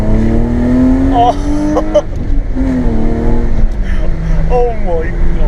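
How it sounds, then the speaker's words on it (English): BMW E36 with a swapped 2.8 M52 straight-six and straight-pipe exhaust, a loud raspy drone rising and falling in pitch close by, with people talking over it. "It's a nice exhaust you got there."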